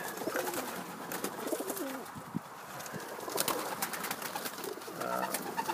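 Egyptian swift pigeons coo softly in a loft, with low, rolling calls rising now and then over a steady background rustle and hum.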